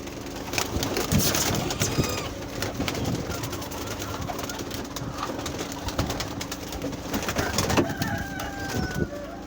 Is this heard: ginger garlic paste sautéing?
no